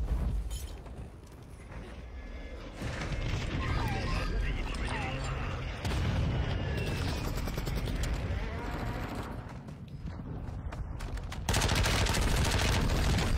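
Video game gunfire crackles in bursts of repeated shots across a busy, loud mix, with someone talking over the shooting throughout.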